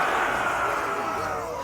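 Large crowd of soldiers in a video game cheering together, a dense sustained roar of many voices at steady loudness that trails off slightly toward the end.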